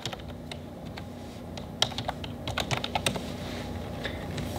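Steady, rapid clicking of keys on a computer keyboard, close up and moderately quiet, with a few louder keystrokes in the middle and no talking.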